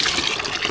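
Water gushing steadily from a pump at a fishpond property in Cabangan, Zambales, a close, continuous rushing splash with no talk.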